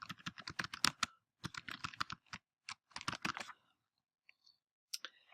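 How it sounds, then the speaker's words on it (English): Quick bursts of keystrokes clatter on a computer keyboard, close and crisp, with short pauses between runs and a few isolated taps near the end. "I'm going to type in Google Shortener"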